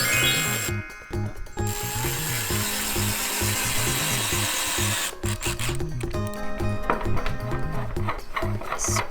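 A power drill whirs close by, drilling holes in wood and driving screws, with bursts of high-pitched motor whine, grinding and rubbing between short pauses, all loud and near.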